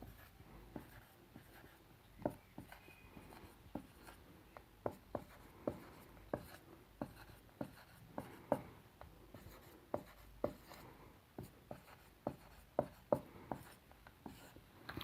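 Pen scratching out a determinant on paper in a quiet room, a series of short, soft strokes and taps in an uneven rhythm, close and faint.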